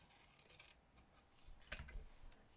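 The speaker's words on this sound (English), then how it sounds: "big scissors work better with this than the snips. And I'm just going to cut up that line there" A few soft snips and rasps of big scissors cutting through patterned Christmas design paper, quiet and close, with one sharper cut near the middle and no talking.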